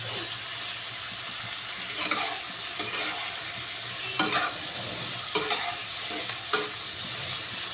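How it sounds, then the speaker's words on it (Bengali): Onion and potato frying in a pan for a muri ghonto dal, with a steady hiss of hot oil and a utensil stirring and scraping against the pan in several sharp bursts, close and alone with no talk. "পেঁয়াজকালি আলুটা ভাজা হবে।"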